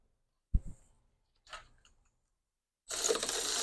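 Ratchet clicking as a battery terminal nut is snugged down on a Honda battery, heard as a couple of short close bursts of pawl clicks followed by a louder, steady rattling stretch with no talk.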